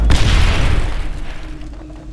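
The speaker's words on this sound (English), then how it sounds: "Grenade!" A grenade blows up in Aliens: Dark Descent with one loud, deep boom whose rumbling tail fades over about two seconds.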